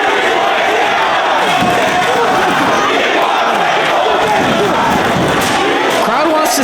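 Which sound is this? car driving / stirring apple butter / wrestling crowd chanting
wrestling crowd chanting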